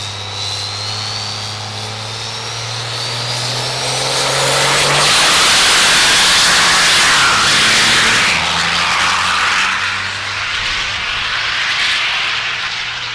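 A loud engine roars and builds as a pickup truck pulling a trailer accelerates and passes close by during a trailer race, the rushing noise swelling then easing as it pulls away.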